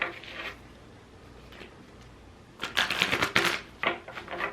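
Tarot cards being shuffled by hand at close range. A soft early riffle is followed by quieter handling, then a burst of rapid, crisp flicking and fluttering.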